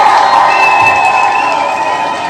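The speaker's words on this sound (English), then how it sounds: "You all deserve a huge round of applause." A crowd cheers and applauds in a dense, steady roar that holds at an even loudness for the whole stretch, with no single voice standing out.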